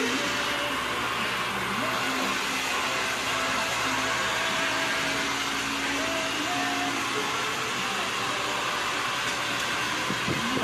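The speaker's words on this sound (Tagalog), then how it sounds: "blower natin buhok mo" A hair dryer blows hair in a parlor with a constant, loud, broadband whooshing roar that holds steady throughout, with people talking faintly beneath it.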